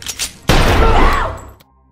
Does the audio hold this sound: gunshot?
yes